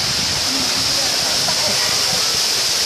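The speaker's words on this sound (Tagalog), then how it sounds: "Ayan po ang falls." Steady broadband rush of the waterfall at Pongas Falls in Sagada, continuous and fairly loud with a bright hiss on top, with faint voices of people nearby mixed under the water noise.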